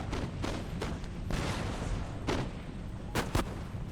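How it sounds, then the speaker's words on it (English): Musket volleys in an Empire: Total War battle between British and Ottoman lines crack out repeatedly, several sharp gunfire bursts in irregular succession, some layered and echoing like distant artillery. "they're going to fire a volley right into the running line"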